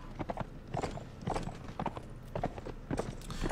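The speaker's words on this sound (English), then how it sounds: "I'm gonna get on my horse." Horse hooves clip-clop steadily in a historical strategy video game, a quick regular trotting rhythm close and clear with a faint rumble of background ambience beneath.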